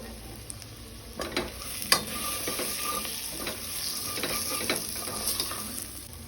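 Vegetables fry with masala, turmeric and salt in a pan for Karnataka-style vangibath, a continuous soft sizzle broken by repeated scraping and stirring clicks of a utensil against the pan.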